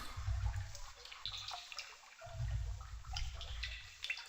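Water drains and gurgles from an opened tap in the realMyst game, rushing in low surges that stop and restart, with faint drips and splashes over the top.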